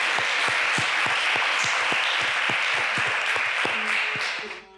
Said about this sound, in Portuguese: uma grande salva de palmas para o SNIP